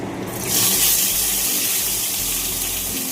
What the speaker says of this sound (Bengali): দেখো আমার তেলটা কিন্তু একদম গরম হয়ে গেছে। এবার মাছ দিয়ে দেবো।